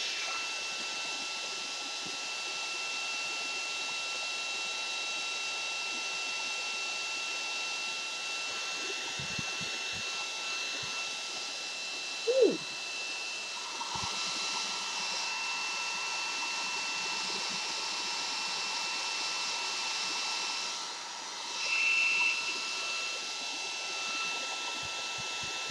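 A hair dryer blows steadily on freshly painted lace, a constant airy whir that holds across the whole stretch with a few brief bumps and shifts, and no talk.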